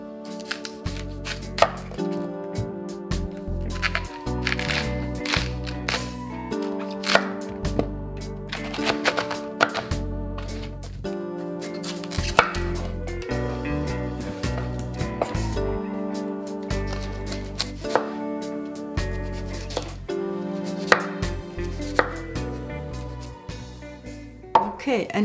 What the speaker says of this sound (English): I will just cut it in very, very thin stripes. If you prefer it, you can also use some kind of this tool and just shred it. I prefer to make it with a knife.